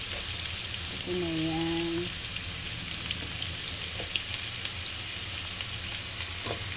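Chayote frying in a pan for chop suey, a steady broadband sizzle throughout with a brief voice and a few faint clinks over it.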